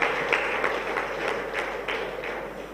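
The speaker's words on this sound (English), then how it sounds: "we can do better than that with a round of applause" Renewed audience applause at an Abuja event, a full ongoing clatter of many clapping hands with a few sharper claps standing out.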